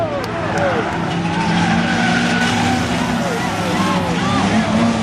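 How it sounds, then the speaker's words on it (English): Red Bull 791 car racing on its bare rim after its right front tire shredded at Langley Speedway, giving a continuous loud grinding, squealing scrape over roaring engines, with a voice talking throughout. "Got a tire rub here on the 791."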